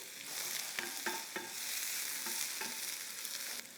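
Finely chopped onion sautéing in oil for a hotel-style puri bhaji, a steady close sizzle broken by several sharp spatula scrapes and stirs against the pan.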